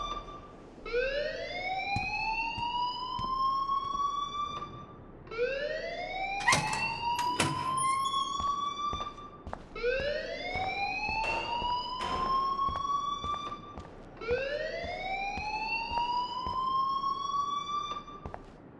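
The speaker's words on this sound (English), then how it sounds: "please turn off that alarm since that's your job" A school fire alarm in Life is Strange, a rising electronic whoop repeating four times in slow even cycles, loud and piercing, with brief clatter in the background.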